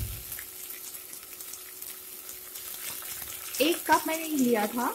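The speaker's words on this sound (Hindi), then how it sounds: "अब हम इसमें दाल ऐड करेंगे।" Dal lentils tipped into a hot pan of soya chunks, a soft rustling sizzle under a brief spoken line, then a louder splashy clatter as the lentils land and stir near the end.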